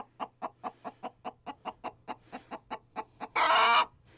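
A distressed broody hen in a chicken coop gives a steady run of about fourteen rhythmic, close clucks, ending in a loud, harsh squawk.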